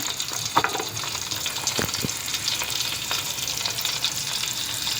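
Chopped onions and medium tomatoes sauté in a pan for tomato rice, a steady close sizzle with occasional soft stirring scrapes and clicks throughout, no talking.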